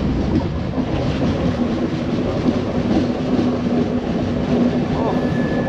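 The Hirakhand Express rolls through hilly country and tunnels with a loud, continuous, dense rumble and rattle that barely changes from start to finish.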